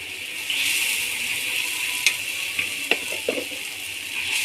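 Ginger paste frying in hot oil: a steady bright sizzle with several sharp pops and scrapes of a spoon stirring in the pan, close and fairly loud, with no talking.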